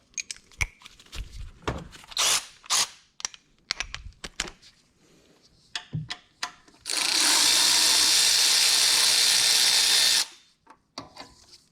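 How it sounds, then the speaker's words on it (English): A power tool zips out heat shield bolts on a 2018 or newer Honda Accord during a turbo install, one loud continuous whir lasting about three seconds, with scattered clicks and clanks of handling before and after. "So now I'm going to go ahead and pull these top two heat shield bolts"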